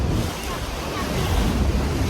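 Niagara Falls roars near a tour boat on the Niagara River, a loud, dense, continuous rush of churning water mixed with heavy wind buffeting on the microphone.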